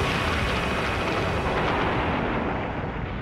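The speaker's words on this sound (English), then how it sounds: "The explosion is a supernova." A supernova explosion rendered as a continuous roaring, rumbling blast, dense and loud throughout with a slightly fading top end, heard alone without speech.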